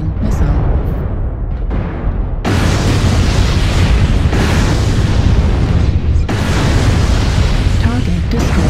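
Video game explosions from an incoming missile strike: loud, dense booming blasts that roll on almost continuously, with short breaks before fresh bursts, under a game's combat noise.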